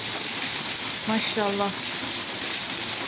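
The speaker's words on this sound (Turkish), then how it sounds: "Bakın arkadaşlar yağmurun şiddetini görün" Heavy rain pours in a constant dense hiss in Muğla, Turkey, with someone briefly speaking over it.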